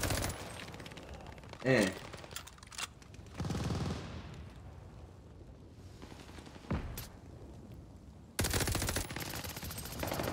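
Bursts of AS-44 assault rifle fire in Call of Duty: Vanguard, several loud rapid volleys spread through the clip, with someone talking between them.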